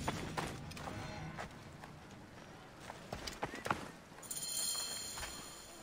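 Horse hooves clip-clop in the video game Assassin's Creed Origins, quick irregular thuds at close range amid game ambience, with a sharper high-pitched sound near the end.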